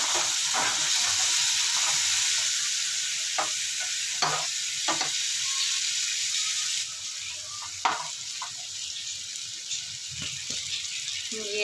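Okra frying in masala after yogurt is added, a loud continuous sizzle and hiss with intermittent stirring clatters throughout.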